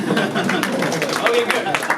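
Audience clapping at a JavaScript debugging talk, a scattered, moderate patter of hands from a small crowd, mixed with murmuring voices.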